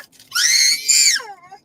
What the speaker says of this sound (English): Please stop screaming